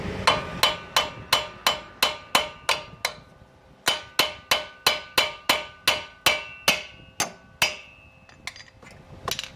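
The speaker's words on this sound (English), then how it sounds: "I'm going to use the hammer and just hit it right here and push the tie rod out" A steady run of sharp metallic hammer blows on a Chevy Silverado tie rod end, about two per second with a brief pause midway, each ringing out before the next strike, close and loud.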